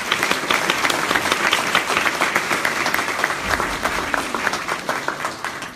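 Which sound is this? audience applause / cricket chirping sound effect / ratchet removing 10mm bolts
audience applause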